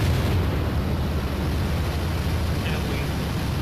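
Bombs from an air strike exploding on target, heard as a sustained, loud roaring rumble of blasts with dense low-end noise throughout, no separate distinct impacts.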